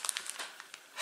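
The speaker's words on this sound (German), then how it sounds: "Ich krame noch in der Tasche, in der Tüte." A hand rummages in a plastic shopping bag, giving quick bursts of close crinkling and rustling over about a second.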